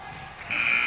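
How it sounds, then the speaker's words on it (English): A basketball game's end-of-game buzzer at a girls' high school contest sounds halfway through, a loud steady electronic tone that holds to the end over gym crowd noise. "Will have to be Hansford at the buzzer"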